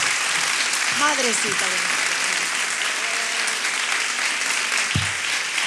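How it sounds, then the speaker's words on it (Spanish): Audience applause greets a guest at a talk event, a steady broadband roar of clapping throughout, with a host's voice briefly heard over it. "vamos a recibir con un fuerte aplauso"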